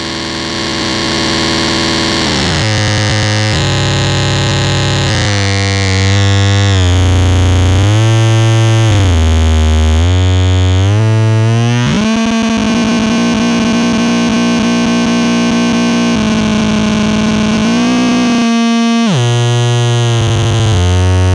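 Guitar feedback through a JOYO JF-14 American Sound pedal, loud sustained squealing and droning tones that step and glide between pitches, swelling with distortion and a brief break near the end, no talk.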